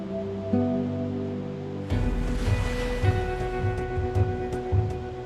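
Ocean waves break near at hand in a steady broad wash of surf that rises abruptly after a quieter, humming opening.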